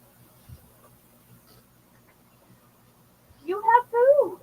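A cat meows indoors twice in quick succession near the end, loud and close after a mostly quiet stretch with faint background noise.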